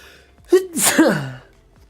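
A person sneezes once, close and loud, a sharp inhaled gasp followed by the explosive burst, alone with no talk.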